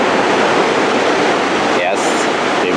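Latefossen waterfall and river in Odda, Norway, a steady loud roar of rushing water close by, continuous broadband noise throughout with a brief faint higher sound near the end.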